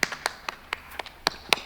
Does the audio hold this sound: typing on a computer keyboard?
no